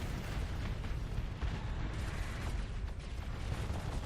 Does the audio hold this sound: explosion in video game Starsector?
yes